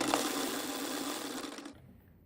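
A sewing machine stitching the cuff opening of a sleeve runs in a steady, fast, loud whir for under two seconds, then stops abruptly, leaving only quiet room tone.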